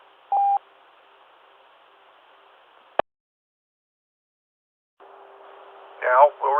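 Amateur radio W8SOE repeater EchoLink node check: a short tone burst, a sharp click, silence, then a carrier with static and a brief beeping tone sequence, with no speech.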